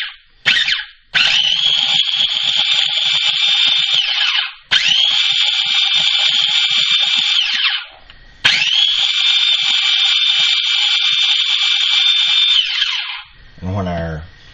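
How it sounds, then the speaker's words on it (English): A small mini mixer pulses cold butter into biscuit dough, its motor giving three long, steady, high buzzing runs up close, separated by brief pauses, with a short rattle at the end. "a little mini mixer makes a real easy job of it"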